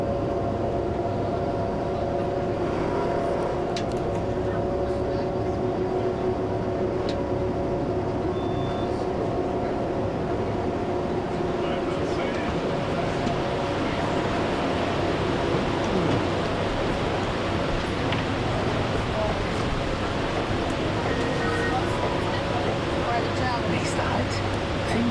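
Gornergrat Railway cog train climbing the mountain, a steady rumbling ride with continuous wheel and motor drone throughout, a faint voice audible under the noise.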